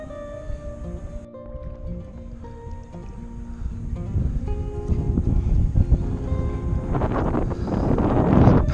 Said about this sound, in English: It's just too windy to fish out there in the open water.